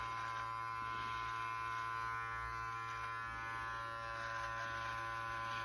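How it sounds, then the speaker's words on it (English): An electric trimmer buzzes steadily and close while trimming neck hair below a beard, a constant droning hum with no talk. "I'm just trimming my neck hairs up."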